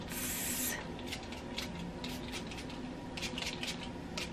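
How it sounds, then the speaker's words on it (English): A short burst of L'Oreal Stylista hairspray spritzed onto hair, a brief close airy hiss at the start followed by faint rustling and rubbing. "then I'm going to give my hair a nice spritz"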